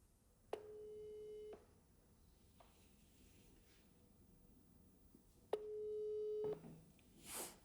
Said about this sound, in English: Oh, that's an international dial tone.